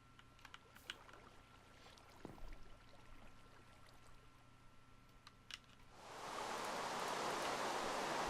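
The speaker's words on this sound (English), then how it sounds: "Of course it's going to start raining." Rain starting in a survival building video game, a soft hiss that swells suddenly near the end over quiet scattered clicks and faint background hum.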